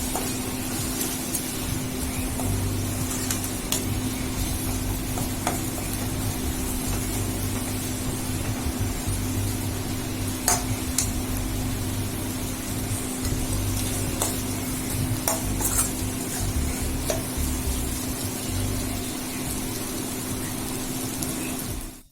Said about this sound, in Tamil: பச்சை வாசம் போற வரைக்கும் நம்ம இந்த மாதிரி எண்ணெயிலே வதக்கிக்கணும்.